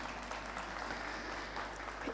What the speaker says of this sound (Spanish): Demos un aplauso al Mauri.